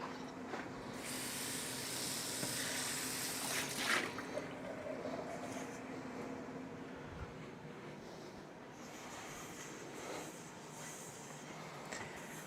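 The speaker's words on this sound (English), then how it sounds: "Just going to rinse this out." Tap water runs steadily into a kitchen sink as a pot is rinsed, a continuous broadband hiss with a brief clatter near the start, fairly close and with no talking over it.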